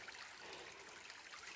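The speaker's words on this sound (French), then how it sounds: "un petit ruisseau qui a l'air de redevenir un ruisseau" A small stream of water runs where trenches have been dug, a steady close rushing and trickling that continues without a break, with no voices.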